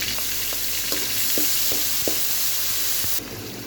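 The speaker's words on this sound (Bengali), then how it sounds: "চিংড়ি মাছগুলো দেখেন একদম লাল লাল হয়ে গেছে এর মধ্যে দিয়ে দিলাম টমেটো কুচি পেঁয়াজ কুচি এবং কাঁচামরিচ কুচি" Shrimp frying with chopped tomato, onion and green chili, a steady close sizzle broken by a few clicking stirs of a spatula, the hiss dropping slightly at the end.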